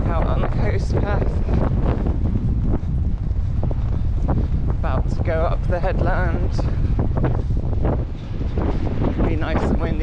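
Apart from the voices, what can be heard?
wind on coastal headland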